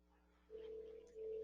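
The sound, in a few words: Snom IP phone ringtone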